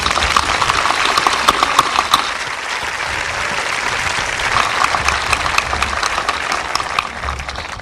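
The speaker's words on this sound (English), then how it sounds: "I'd like to give her another round of applause." Audience applause fills a high school graduation ceremony held in bleachers, a steady dense wash of many hands clapping that stays loud and even throughout with no talking over it.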